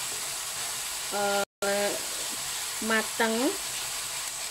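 Onions sautéing in a pan while making Singaporean Malay-style ayam kicap, a steady soft frying sizzle running throughout under a person speaking briefly.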